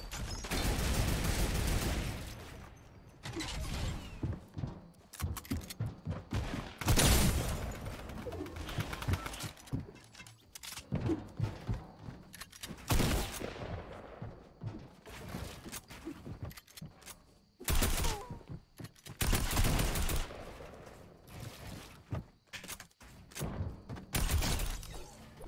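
Video game gunfire in bursts of sharp, loud cracks and volleys, arriving in clusters with short gaps across a busy battle soundscape.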